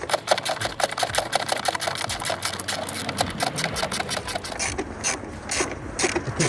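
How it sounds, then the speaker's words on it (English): A stubby ratchet with a deep 8mm socket tightens a nut on a Corsa D 1.3 CDTI, giving rapid, evenly spaced clicks close to the microphone throughout. "I'm just using that same stubby ratchet and deep 8mm socket in here just to tighten that down"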